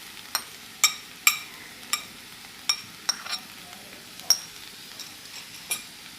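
Spatula strokes stirring bottle gourd peel stir-fry with chopped coriander in a pan, about a dozen crisp scrapes and clinks at an uneven rhythm over a faint, steady sizzle, close and fairly quiet.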